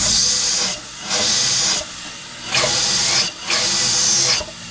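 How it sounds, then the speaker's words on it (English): Steady hissing of air rushing through a Hilborn mechanical fuel injection system on a 1957 Chevy, swelling and fading in several pulses over a low mechanical background. "So right now you can kind of hear the air going through there."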